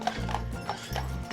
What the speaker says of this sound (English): you can take a horse taxi.